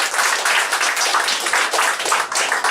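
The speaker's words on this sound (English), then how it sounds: "Round of applause." Dense applause from a crowd, a continuous wash of overlapping claps at a loud, even level.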